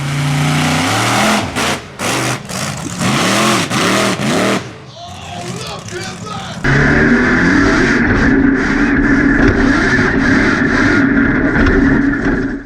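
A monster truck's engine roars and revs hard through a slap wheelie, loud and close, with surges and drops in pitch over crowd noise and announcer-like talk, then a steady heavy roar toward the end.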